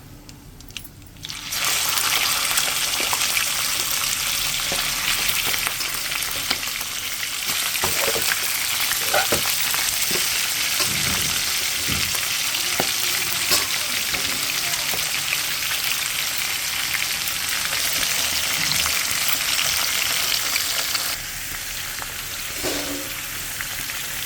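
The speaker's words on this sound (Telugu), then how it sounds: "ఇప్పుడైతే చికెన్ ముక్కలు వేసుకుందాము" Chicken pieces hit hot oil in a pan and burst into a loud, steady sizzle that holds almost the whole time, with a few clinks from stirring and a slight easing near the end.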